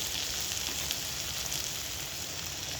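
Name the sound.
snake gourd frying in a pan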